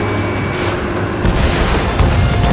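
Missile explosion in Ace Combat 7 during an aerial dogfight, a deep booming blast over steady jet roar, with a second heavy impact shortly after.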